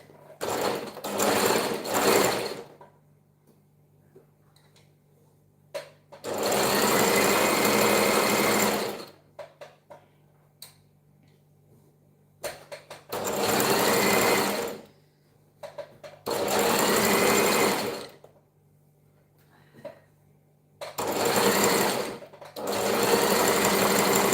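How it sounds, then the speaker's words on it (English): Sewing machine stitching fabric in repeated loud, close bursts of rapid whirring, each a few seconds long and separated by short quiet pauses, with no talking. "I'll just stitch, then later on I'll go ahead and zigzag it at once"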